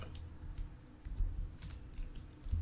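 Fingers tap out "doctype" on a computer keyboard while coding HTML in a code editor: a quick run of close, light key clicks and clacks over a faint room hum, with no voice.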